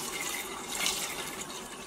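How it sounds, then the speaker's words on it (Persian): Water added to a cooking pot holding shredded peel, a steady rushing pour with a splashy hiss that swells briefly midway. "روش یک مقدار دیگه آب اضافه میکنم"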